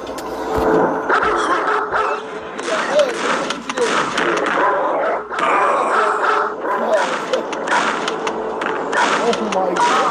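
Dog in a video game barking and yipping repeatedly, loud and close, with excited yelling voices talking over the noise throughout.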